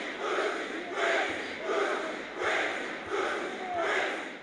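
Sports fans chant the winning team, losing team cheer in loud, synchronized call-and-response waves, five rhythmic swells of massed voices at a game's end.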